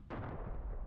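An AGM-88C HARM missile strikes a SAM site in DCS World: a single muffled, low boom with sudden onset and a rumbling tail, faint and distant.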